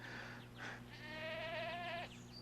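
A goat bleats on a cattle farm, one drawn-out wavering cry standing clearly over a steady low background hum, with a shorter bleat just before it.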